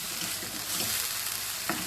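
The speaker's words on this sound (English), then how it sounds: "We're gonna mix it all together." Kale and gluten-free spaghetti noodles being stirred in a hot pan, with a steady close sizzle and scraping stir noises throughout, no one talking.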